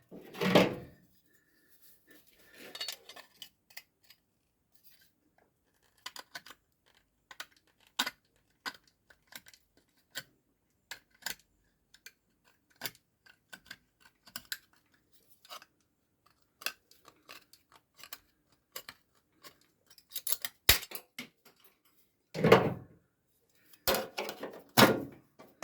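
Tin snips cut a sheet metal bulkhead repair panel on a Ford Escort MK1 restoration, giving a long run of sharp, irregular clicks and snaps with short pauses and a few louder handling clunks near the start and end.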